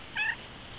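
A single short cat meow, clear and close, rising briefly and fading over under a second against quiet room background.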